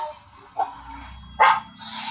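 A dog barks in a couple of quick, sharp yips close by, followed by a brief hiss-like burst in a quiet indoor room.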